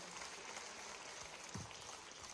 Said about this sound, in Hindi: एक बार जोरदार तालियां हो जाएं आपके सम्मान में